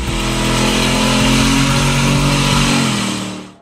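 Audi RS4 B7 Avant with a 4.2-liter V8 and six-speed manual gearbox revving hard, a loud, close, sustained engine roar that holds high and then drops away at the end, with no talking.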